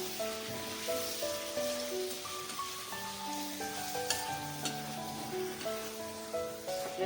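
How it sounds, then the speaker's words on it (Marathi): Prawns sauté in a pan over a medium gas flame, giving a steady, moderate sizzle that runs under soft background music without a break. "आपल्याला परतून घ्यायचे व्यवस्थित"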